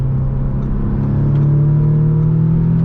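An Audi S3 8V engine pulls hard in fourth gear, a loud steady drone that climbs slowly in pitch through the whole run with no pause, close and continuous.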